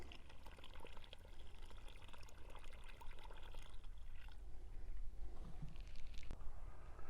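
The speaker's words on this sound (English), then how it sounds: "Take a bucket or pitcher of water and fill the hole." Water poured from a bucket or pitcher into a freshly dug planting hole for a tomato, a continuous close splashing and gurgling pour that keeps running throughout.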